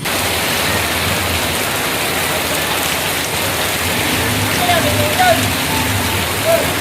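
Heavy rain pours down in a dense, loud, unbroken roar that stays close and constant, with no clear talking over it.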